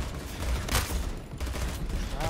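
Rapid gunfire from a 3-shot burst rifle in a first-person shooter video game, dense and loud, with overlapping shots and game effects crowding the mix and no clear talk.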